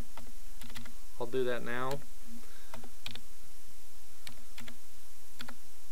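Computer keyboard typing during a software password setup, with scattered light key clicks through the clip and a brief stretch of a man's speech near the start over a steady low hum.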